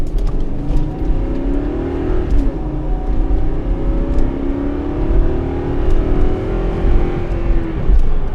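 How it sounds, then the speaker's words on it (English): Engine of a 2nd-gen Toyota Sequoia with over 200,000 miles being revved, loud and close, rising and falling in pitch through a few smooth revs and settling back to a steady idle. "We'll give it a little rev here."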